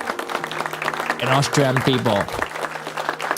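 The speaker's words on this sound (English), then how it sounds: "Applause for Austria." Crowd applause for Austria during a live online talk show, a short burst of clapping beneath and around a man's speech that is heard over it.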